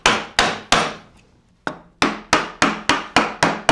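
A mallet strikes a chisel, cutting a mortise through wood: sharp, loud, evenly spaced knocks, three, then a pause, then a fast steady run of eight more blows, each ringing briefly.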